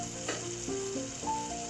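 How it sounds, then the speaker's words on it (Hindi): Garlic ginger paste frying with tomato for a Karachi-style butt karahi, a steady close sizzle running throughout with brief stirring scrapes and faint tonal kitchen hum underneath. "1 से 2 मिनट हमने इस लहसुन अदरक को इस टमाटर के अंदर अच्छे से फ्राई करना है।"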